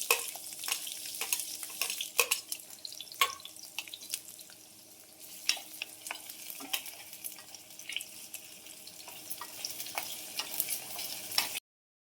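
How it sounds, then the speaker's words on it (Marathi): Onion dropped into hot oil in a home kitchen, a continuous soft sizzle with clinks and clatter of a spoon stirring against the pan, near and moderately quiet, no talk. "तर आपले तेल गरम झाले, तर आता मी कांदा टाकते."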